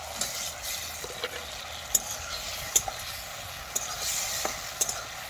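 Egg stirred into frying nalte (khuria) greens in a pan, a low steady sizzle with sharp spatula taps and scrapes at intervals, close and without talk.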